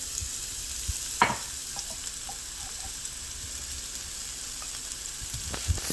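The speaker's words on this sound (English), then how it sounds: "we're going to be adding a little bit of oil to our pan here. And then we're going to add our onion." Onion frying in a little oil in a pan for quesadillas, a quiet steady sizzle with a few small taps and pops, no talking.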